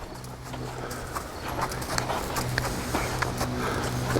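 A young horse's hooves clip-clop steadily at a walk on firm ground during a low-key colt start, the rhythmic footfalls close and clear over a constant low hum.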